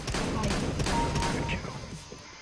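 A loud burst of automatic rifle fire in the shooter game CS:GO, with rapid close shots that fade out toward the end.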